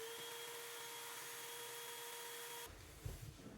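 A shop vacuum runs steadily, pulling a string through electrical conduit inside a finished wall, a continuous whine with a steady tone that cuts off near the end, followed by a few soft bumps.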